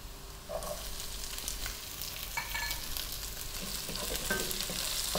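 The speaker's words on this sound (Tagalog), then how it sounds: "lutuin lang natin sandali yung ating sibuyas hanggang maging translucent siya" Onion sautés with garlic and ginger in a pan, a steady sizzle with occasional stirring scrapes, close and moderately loud.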